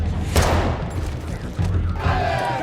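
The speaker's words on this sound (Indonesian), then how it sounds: "tiba-tiba Toro dan pasukan datang lalu terjadilah aksi tembak-tembakan" Gunfire in an action film shootout between special forces troops and a gang, rapid overlapping shots and booms over a loud, dense soundtrack with a low rumble throughout.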